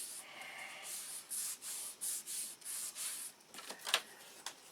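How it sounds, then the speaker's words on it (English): Plywood ribs are sanded by hand in steady back-and-forth strokes, about eight rhythmic scratchy rubs close up, followed by a few lighter, uneven scrapes without speech. "Then we'll sand them, drill holes in them"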